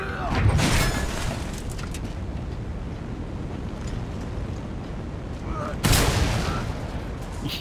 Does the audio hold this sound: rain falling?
no